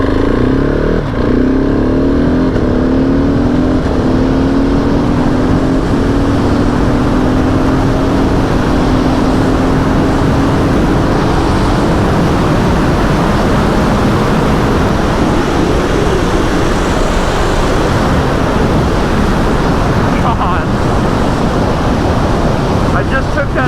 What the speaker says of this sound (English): here's a half throttle pull.